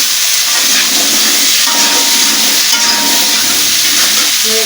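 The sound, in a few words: vegetables added to frying pan with dried chilli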